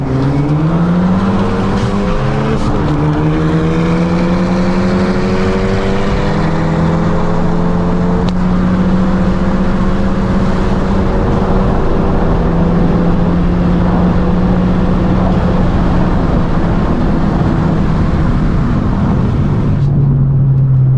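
Loud engines of a tuned 2020 Honda Civic Si and a Hyundai Veloster N scream and rise in pitch together as they accelerate hard from a roll, a sustained roar of climbing revs throughout.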